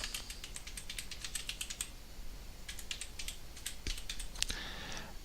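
Keys clatter on a computer keyboard as an email address is typed into a webmail login form, a quick run of soft clicks, a pause, then a second burst, close and fairly quiet.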